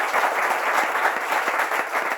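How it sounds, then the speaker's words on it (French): An audience at a Bible quiz semi-final applauds, a dense, even wash of clapping that holds steady for a couple of seconds. "On peut également l'applaudir très fort."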